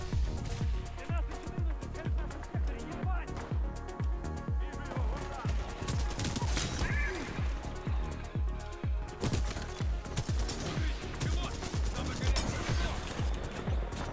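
Rapid, continuous automatic gunfire from Titanfall 2 multiplayer, dense bursts of shots close and loud throughout, with a player shouting excitedly over the barrage.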